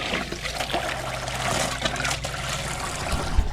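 A water hose runs into a container at an animal enclosure, giving a continuous splashing, trickling pour close by, steady in level with a few small knocks near the end.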